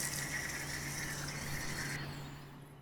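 Steady running water pours from a kitchen tap in Fuerteventura, a continuous hiss that drops off and quiets near the end.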